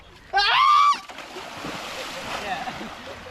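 People jump into a village swimming pool, with a loud splash and a raised shout near the start, followed by steady churning water and faint voices.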